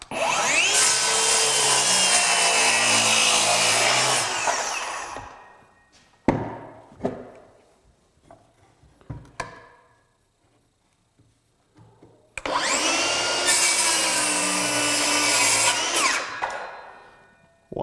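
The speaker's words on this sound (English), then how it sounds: "We're just going to do a simple cross cut here." Two bursts of a cordless brushless 7-1/4 inch circular saw cross cutting wood, Craftsman V20 and Ryobi 18V One+ HP, each a loud sustained whine spinning up and cutting for about four seconds, separated by quiet handling knocks and clatter.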